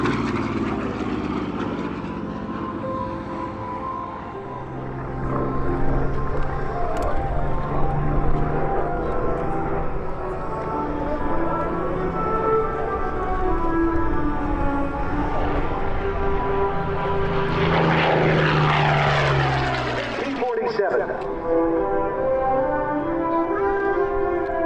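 A P-47 warbird flies past at an airshow, its piston engine and propeller droning loudly and steadily, then swelling and shifting in pitch as it passes close by before fading. No voices are heard.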